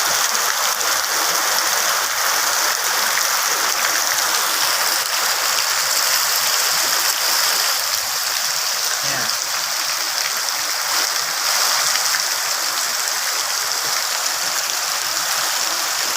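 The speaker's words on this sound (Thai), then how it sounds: "หนักเลยครับ หนักเลย ฝนตกหนักแล้วครับ" Steady, dense roar of heavy rain pouring down close by, loud and unbroken throughout with no voices.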